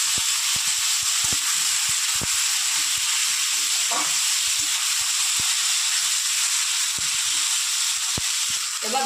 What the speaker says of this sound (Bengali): সমস্ত মশলাগুলো একসাথে কষিয়ে নেব।